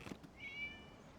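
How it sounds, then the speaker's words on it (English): A single short cat meow in the video game Genshin Impact, a quiet, thin rising-then-falling call heard alone over faint background ambience. "It was just a cat."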